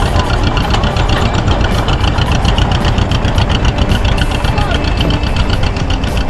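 An old John Deere tractor with a vertical two-cylinder engine runs steadily at a tractor meeting in Belgium, a loud, continuous, even chugging close by, with faint talk underneath.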